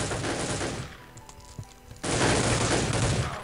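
Weapon fire from a shotgun in the video game Soldier of Fortune II comes as two loud, dense bursts of shooting separated by a quieter second-long gap.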